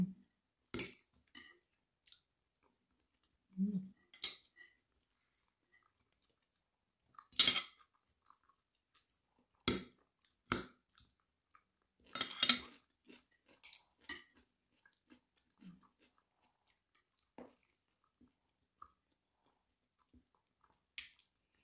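Someone eats piadina with vegetables and olive oil, giving sparse, quiet chewing sounds and sharp cutlery clicks and taps spread irregularly through the quiet, with no talking.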